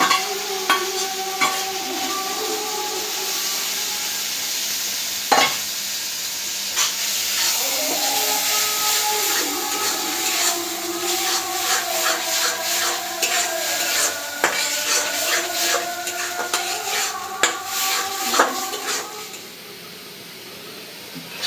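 Prawns in ground coconut paste sautéing in a pan in a Bengali village kitchen, a steady close sizzle with frequent scraping stirs and occasional clinks of the spatula against the pan.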